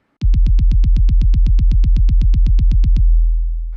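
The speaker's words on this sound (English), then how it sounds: "the bass drum resonates too much" A fast, steady run of booming bass drum hits in a metal song, about twenty in a row, loud and resonant with a deep lingering low end before ringing out.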